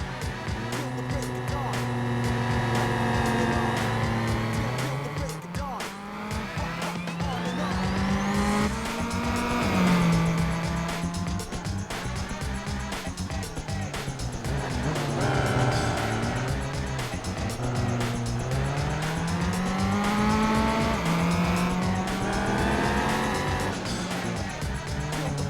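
Race car engines howl through a replay lap in the video game Gran Turismo 4, revs climbing and dropping repeatedly through gear changes, with occasional tire squeal, loud and continuous for the whole stretch.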